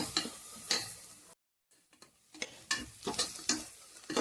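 Onions sautéed in a pan for dry fish biryani give soft, intermittent stirring scrapes over a faint sizzle. The sound is quiet and close, with a short silent gap partway through.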